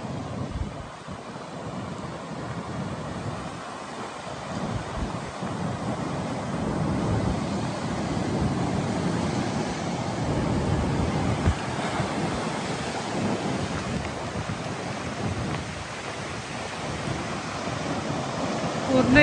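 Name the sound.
rough sea waves surging on a beach in rain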